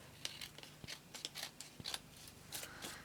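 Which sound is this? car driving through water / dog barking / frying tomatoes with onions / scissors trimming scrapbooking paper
scissors trimming scrapbooking paper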